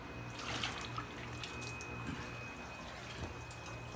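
Water running from a tap into a container, a steady, fairly quiet flow with a few small splashes and clinks, no talking.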